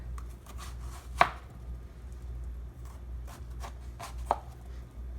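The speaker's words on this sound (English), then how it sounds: "Cut my cucumber in half." A knife cuts a cucumber in half on a board, with one sharp close chop, then a second later on, over a low steady hum and small handling sounds.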